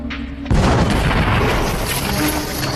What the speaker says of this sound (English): Again, the explosion rocks the quarry.